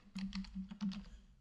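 Close, quiet typing on a computer keyboard while writing trading-algorithm code, a short burst of about six or seven quick keystrokes followed by a few lighter taps.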